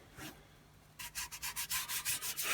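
Rhythmic sanding strokes rubbing back and forth on filler on an R2-D2 droid part, about a dozen steady passes, close and fairly loud, with no talking.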